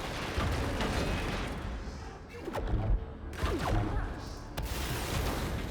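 Rapid bursts of gunfire and sharp impact crashes from a mechanical boss fight in the video game Split Fiction, mixed with whooshing effects, play continuously at a steady, fairly loud level.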